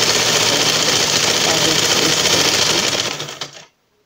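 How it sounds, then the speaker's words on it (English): An electric Butterfly sewing machine runs at a steady, loud whirring clip as it stitches fabric for a scrunchie, then winds down and stops abruptly near the end. "there we go with our butterfly machine. It's electric operated."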